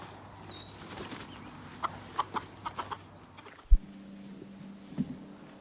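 Quiet soft chicken clucks in a short run, then a sharp flap of wings and a low drawn-out rooster call from a backyard flock, heard faintly at close range.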